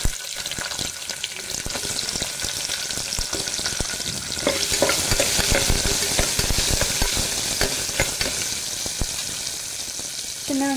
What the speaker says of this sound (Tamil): சின்ன வெங்காயம் சேர்த்துக்கலாம்.